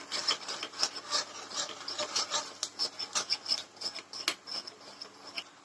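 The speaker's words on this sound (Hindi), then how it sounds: "अब इसमें मैदा डाल दो और इसे मिक्स करते रहो। इसे कंटिन्यूस चलाना।" Flour being stirred continuously into warmed oil in a pan while making creamy Maggi, heard as a steady run of close scraping, rubbing strokes from the spoon against the pan, with no talking.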